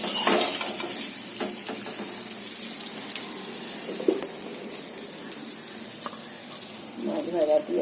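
Four puti fish frying in oil in a home kitchen, a steady close sizzle with scattered pops and crackles, swelling louder near the end, with light background clatter.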